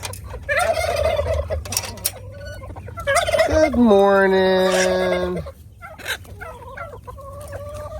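Turkeys gobble loudly and repeatedly alongside clucking fowl, with a person briefly speaking a greeting near the start.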